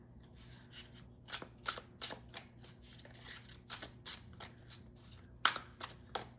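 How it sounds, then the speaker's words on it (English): Playing cards are shuffled by hand in a series of quick, crisp riffling bursts, close and fairly quiet, with no voices. "Hand-to-hand shuffle is good."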